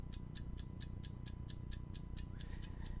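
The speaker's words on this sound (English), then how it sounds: "This is indeed a mechanical tracking mount. This will track the night sky for about an hour and has no battery, just a spring. And you can even hear it tick." A spring-driven mechanical tracking mount for following the night sky ticks softly and evenly, about four ticks per second, with no voices over it.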